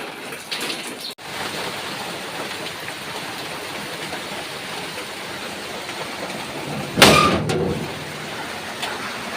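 Heavy rain falling steadily as a dense, even hiss throughout, interrupted by one brief louder burst of noise close by.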